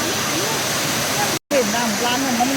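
Phlio waterfall pouring down from the mountain in Chanthaburi, a loud constant rushing roar of falling water with a brief dropout midway, and someone talking over it.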